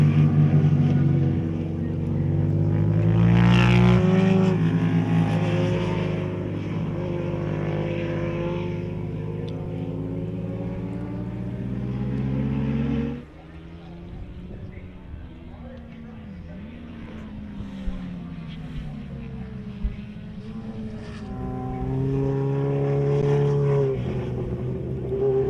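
Onboard roar of an Eddie Lawson replica Kawasaki racing motorcycle at a track race, a loud continuous engine note rising and falling through gear changes, with a commentator talking over it.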